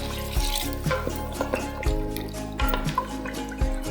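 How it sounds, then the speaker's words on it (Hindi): Water trickles and splashes into a pot of frying mutton and oil with intermittent drips and gurgles, close by and moderately loud, repeating in short irregular bursts. "अब इसमें हम पानी डाल रहे हैं।"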